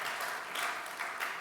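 Applause from a church congregation at a Sunday service, greeting the news of a member's newborn baby; steady, dense clapping fills the whole short moment at moderate loudness with no voices over it.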